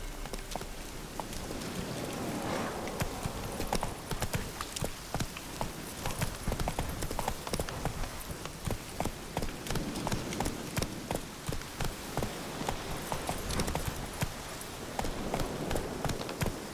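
Roach, the horse in The Witcher 3 video game, trots along with a steady rapid clip-clop of hooves on the ground, continuous and fairly even in rhythm throughout, over a soft outdoor wash.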